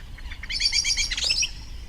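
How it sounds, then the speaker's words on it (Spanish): A quick series of sharp, high-pitched coot calls rattles out for about a second, fairly clear over quiet outdoor background noise. "Y se escuchan las fochas."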